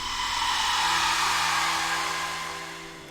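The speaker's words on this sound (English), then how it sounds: "Sounded like steam or something." Steady broadband hiss like escaping steam in a Nancy Drew mansion video game, swelling loud then fading toward the end, alone with no voices.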